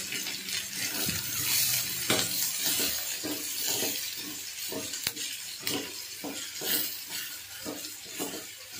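Mung dal and turmeric being stirred and fried in a pan, a steady run of scraping and soft clinks under a constant sizzling wash, close and fairly loud throughout.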